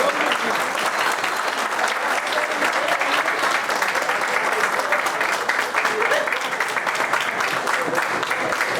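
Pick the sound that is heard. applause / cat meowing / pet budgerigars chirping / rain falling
applause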